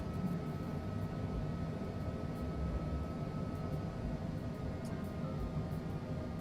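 Citation Longitude business jet engines in Microsoft Flight Simulator rumble as a steady broad whooshing drone with a faint high whine on top, moderately loud and unbroken, with no talking.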